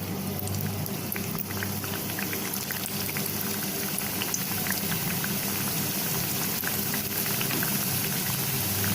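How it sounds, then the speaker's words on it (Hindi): Layered mathri frying in hot oil over a low flame, a steady dense bubbling crackle with fine popping that stays loud and even throughout, no voices. "ये देखिए तेल हमारा गर्म हो गया है और हम इसमें अपनी ये लेयर्ड मठरी"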